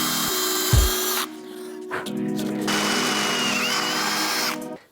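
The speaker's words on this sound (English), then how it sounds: "I'm going to drill a hole right here" A power drill bores a hole in metal for a dimple die while a bash bar is being built, a steady high whine running for about a second, then resuming after a short pause and holding for several seconds.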